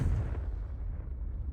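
A single booming Confringo blast spell explodes in Hogwarts Legacy, a short heavy burst that rumbles low and quickly fades away.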